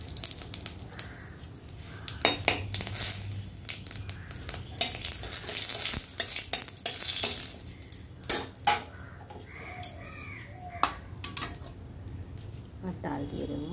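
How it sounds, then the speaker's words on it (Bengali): Bay leaf, whole dried red chilies and cumin crackle and sizzle in hot oil in a wok, with scattered spoon scrapes and clinks against the metal while a person talks over the cooking. "কড়ার মধ্যে দিয়ে দিলাম তেল, দিলাম তেজপাতা, গোটা শুকনো লঙ্কা,"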